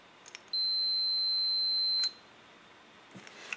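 A multimeter gives a single steady continuity beep of about one and a half seconds while testing a coffee brewer's magnetic float switch, clear and alone against quiet room tone, with faint handling clicks around it.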